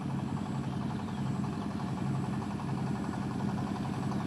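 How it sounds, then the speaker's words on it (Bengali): A small river boat's engine chugs steadily at a moderate distance, a continuous low, rhythmic motor drone with little change in loudness and no talking. "ওই যে দেখেন নৌকা আসতেছে"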